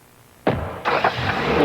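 An Acura Legend sedan, first a quiet hum, then a sudden swell of engine and road noise as it drives, with a second surge a moment later, staying steady and fairly close.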